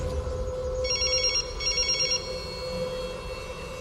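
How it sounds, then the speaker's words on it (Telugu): A telephone bell rings unanswered in two short trilling bursts over a steady background hum in a tense action-film scene, the ringing clear and moderately loud with no voices. "ఫోన్ తీయట్లేదు అన్నయ్య వాడు"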